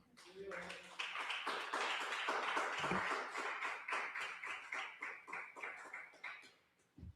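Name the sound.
congregation applauding in church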